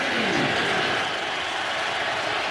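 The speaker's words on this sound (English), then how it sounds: "Crowd on its feet, urging on the Raiders defense" A stadium crowd at a Raiders–Redskins NFL football game roars continuously, a dense, loud wash of cheering with no single voice standing out.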